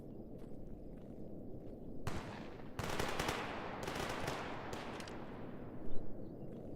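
Several bursts of rapid gunfire ring out at a distance down a bridge in the video game S.T.A.L.K.E.R. G.A.M.M.A., rattling in short clusters over a low, steady rumble, with a sharper thump near the end.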